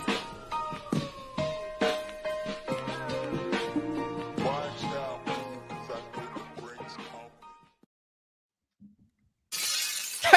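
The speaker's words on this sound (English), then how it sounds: "That's the Bass and Brews glass shattering." A loud glass-shattering sound effect used as a podcast stinger on a fishing show, bursting in abruptly at the end after a stretch of musical intro and a short silence.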